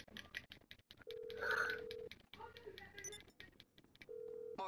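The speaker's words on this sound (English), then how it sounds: "I'm calling my phone, using my phone." Phone dialing tones followed by steady ringback beeps in GTA 5, with short electronic tones repeating between brief pauses.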